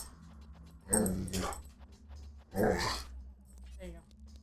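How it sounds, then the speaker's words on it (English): Nala the dog gives two short, soft growling rumbles close by, each under a second, separated by quiet moments. "I call that more growling than barking."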